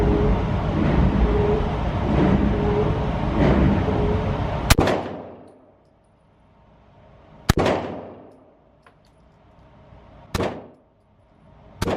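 SIG P365 pistol shots fired at an indoor range, four sharp, loud single cracks spaced a few seconds apart, each ringing off briefly, the first over steady background noise.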